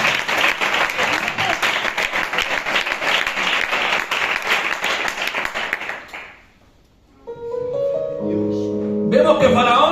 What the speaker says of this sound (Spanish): Dale un aplauso al Señor y recibimos la palabra.